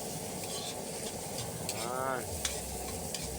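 Unpeeled garlic cloves sizzling and crackling in a hot pan, a steady frying hiss with stirring scrapes, close and moderately loud, with a brief voice.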